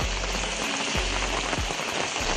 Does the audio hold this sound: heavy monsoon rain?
yes